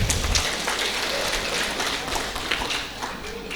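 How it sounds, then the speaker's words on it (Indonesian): An audience at a sugar company's formal address applauds, producing a continuous, even rain-like patter of many hands clapping at moderate volume throughout. "Tepuk tangan dulu untuk kita semuanya"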